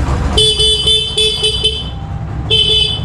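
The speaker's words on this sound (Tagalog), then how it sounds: "Busina." A loud horn on a 2024 Kawasaki Barako 2 motorcycle sounds nearby in a quick series of short beeps, pauses, then gives one more honk.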